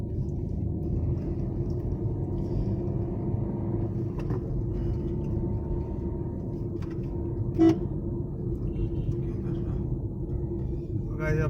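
A car horn toots briefly amid a constant low traffic rumble, with muffled voices in the background, on a Himalayan road in Uttarakhand, India.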